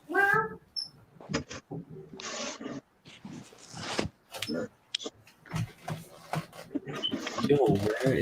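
A pet cat grabbed during a ball python chat, with short meow-like cries and handling noises amid excited overlapping voices, fairly close and lively.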